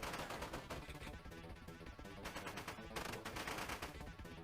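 Video game gunfire, rapid machine-gun bursts and shots crackling continuously and fairly loud, with no talking.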